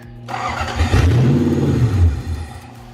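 A Lexus LS 400 being rebuilt as a drift car cranks and catches, its engine swelling to a loud rumbling surge before settling toward an uneven idle, heard close and without talk.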